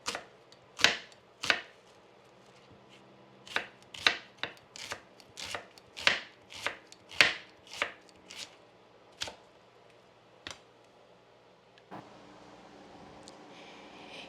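A white onion being chopped for adobo gives crisp knife strikes on a cutting board, first a few single cuts and then a quicker irregular run of about a dozen chops, close up in a quiet kitchen.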